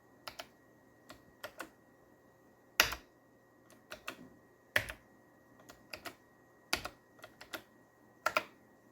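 Intermittent keystrokes on a computer keyboard attached to a 1998 Cyrix MII PC, sharp close clicks in irregular bursts with pauses between, alone in a quiet room.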